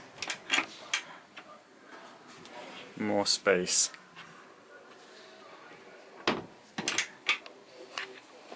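Drawers in a Swift Toscane 694QB motorhome kitchen opening and closing, a few short wooden knocks and slides close by, with someone talking between them.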